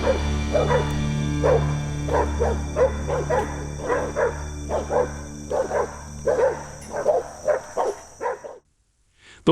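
Hunting dogs bark during a wild boar hunt in Russia, giving repeated rhythmic bursts of yaps and bow-wows at a steady pace over a low background hum before the sound cuts to silence.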